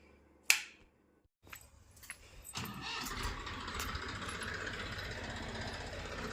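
A tractor engine idles in a wheat field at night during threshing: a sharp click and a short silence, then a rough, steady engine rumble that starts up and settles into a loud, continuous drone.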